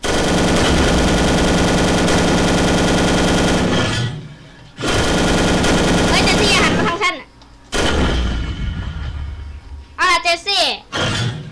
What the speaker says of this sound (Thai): กดทั้งยิงปืนใหญ่และยิงปืนกลเลย